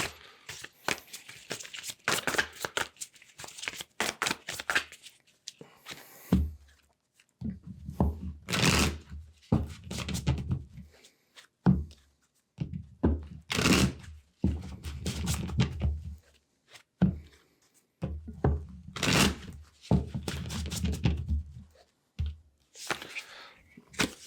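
Tarot cards are shuffled and handled in bursts of riffling, slapping and shuffling close by, broken by short pauses, with thuds and crinkles mixed in.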